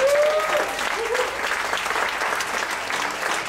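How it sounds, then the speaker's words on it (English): Applause from a PechaKucha night audience at a venue in Ubud, Bali, a dense and sustained burst of clapping that is loudest at the start and holds steady, with a brief whistle early on. "Just a round of applause for betelNut, which is hosting us here again tonight."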